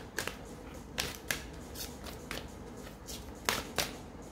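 Tarot cards are shuffled by hand, giving close, crisp slaps and riffles in irregular bursts over a quiet background.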